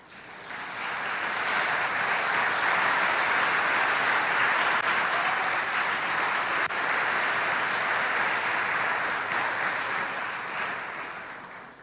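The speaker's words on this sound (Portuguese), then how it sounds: "Quantos podem dar glória a Deus por essa palavra e aplaudir o Senhor?" A church congregation applauds for about ten seconds, the clapping rising quickly, holding as a dense steady roar, then fading away at the end.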